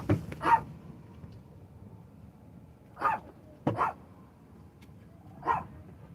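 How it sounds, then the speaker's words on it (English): Dogs bark and yip in short bursts at home: one near bark at the start, a pair of sharp barks around the middle and another near the end, with quiet room tone between. "Crazy dogs."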